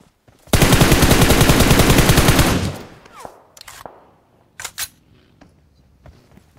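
A long, loud burst of rapid automatic gunfire in the battle-royale video game BGMI runs for about two seconds, then fades into scattered shots, clicks and brief thumps.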